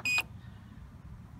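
A single short electronic beep sounds from a meat smoker's control panel as its timer is set, then near silence with faint room hum.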